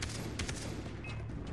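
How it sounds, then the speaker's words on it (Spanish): Gunfire in the shooter video game Far Cry 3, a dense burst of rapid shots under a constant low rumble, fairly faint and continuous for a short stretch. "a balazo limpio con todo el que salga por aquí"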